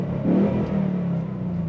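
A 2021 Ford Mustang V8 idles with its exhaust set to quiet mode, a soft, low, steady burble with a slight rise in the middle.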